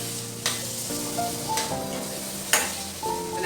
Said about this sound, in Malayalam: കട്ട് ചെയ്ത് വെച്ചാൽ നമ്മുടെ തക്കാളി ഇതിലേക്ക് ഇട്ട് കൊടുക്കാം